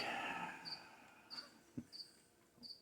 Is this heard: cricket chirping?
yes